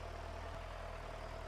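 A tractor engine in the video game Stardew Valley idles with a steady low rhythmic chugging, continuous and fairly loud over the whole brief moment.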